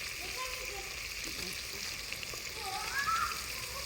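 Tomatoes fry in hot oil for a mutton gravy (mutton rassa), giving a steady, even sizzle that runs the whole time, with faint voices in the background.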